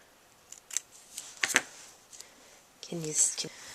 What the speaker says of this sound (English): take our scissors and cut